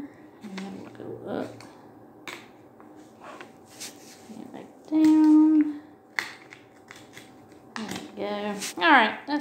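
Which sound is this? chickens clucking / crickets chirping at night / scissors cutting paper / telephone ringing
scissors cutting paper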